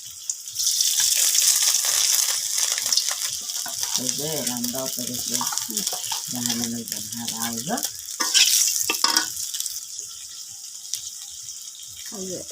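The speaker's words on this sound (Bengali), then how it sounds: "আমি এখন মাছের ঝোল তরকারি রান্নার জন্য তেল দিয়ে দিলাম প্রথমে করার এই যে এখন তেজপাতা দিলাম" Bay leaf dropped into hot oil for a village-style rohu fish curry sizzles loudly and steadily throughout, with a person talking over the frying.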